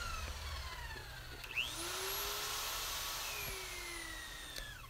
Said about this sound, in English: To cut the threads as cleanly as possible, I keep reversing the threader to clear out the chips from the cut.